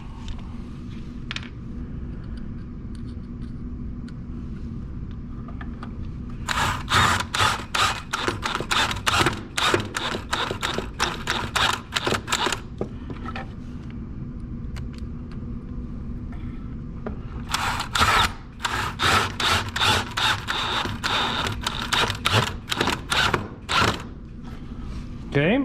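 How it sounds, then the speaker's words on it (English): A power drill driving screws into a wooden face frame: two long runs of rapid, rattling mechanical clicks, close and fairly loud, separated by a quieter pause. "then go ahead and drive your screws in"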